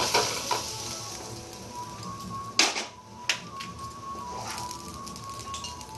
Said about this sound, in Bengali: এবার লাল লাল করে ভাজা হয়ে গেছে আলুটা